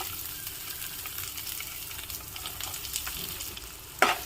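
Onion pieces fry in oil with curry leaves and dried chillies for a kidney bean dish, giving a steady, fairly quiet sizzle with faint stirring scrapes and a sharper clink near the end.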